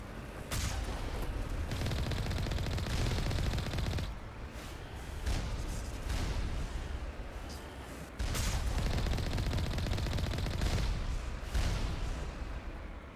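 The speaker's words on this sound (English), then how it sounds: "Shooting at me way up there?" Sustained gunfire in the Mass Effect video game, a dense loud fusillade of rapid shots rolling on for several seconds with brief lulls near 4 and 8 seconds, no voices.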